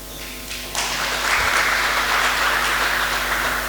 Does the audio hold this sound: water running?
no